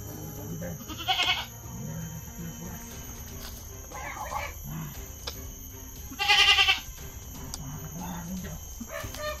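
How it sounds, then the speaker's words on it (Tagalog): A goat bleats twice, loud and near, amid faint rustling background noise with a few quieter calls in between. "Hindi nila narinig yung kambing."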